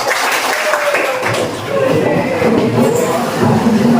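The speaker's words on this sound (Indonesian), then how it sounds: "Oke, tepuk tangan semua." A classroom of students claps together in a steady burst of hands, mixed with overlapping voices and chatter throughout.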